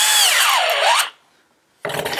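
A Craftsman CMCK220D2 cordless drill whirs loudly for about a second, its pitch dropping then rising as the torque clutch engages. After a brief silence it starts again with a rougher, buzzing burst.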